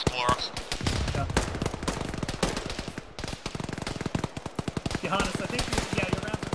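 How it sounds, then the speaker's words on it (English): Rifle rounds fired in Arma during a ShackTac squad fight: sustained rapid automatic gunfire, a dense stream of sharp close shots with a brief lull midway, then resuming with quicker cracks, no talk audible. "I think your rounds are hitting the rock in front of you"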